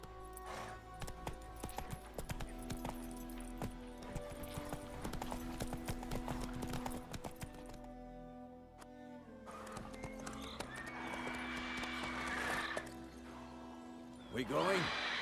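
Hooves clip-clop rhythmically as a horse gallops in The Witcher 3, with an occasional whinny and snort, plus in-game voices talking over the steady beat.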